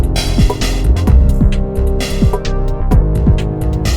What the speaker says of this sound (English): And now I'm going to talk about the chord sound